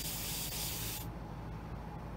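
Airbrush spraying thinned paint onto paper towel while working on an Eduard M4A1 scale model: a loud, steady close-up hiss that cuts off sharply about halfway, leaving a quieter background hum.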